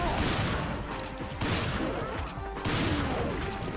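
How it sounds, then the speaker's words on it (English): Shotgun blasts at point-blank range in Resident Evil 5 Mercenaries, dense bursts of gunfire and impacts layered over constant game noise, with a short voice. "shotguns, point blank, they work"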